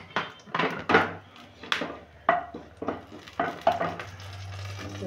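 Whole cumin and whole garam masala stirred in hot mustard oil in a pan, heard as a low sizzle under repeated scraping and knocking strokes of a spatula against the pan, with no voices.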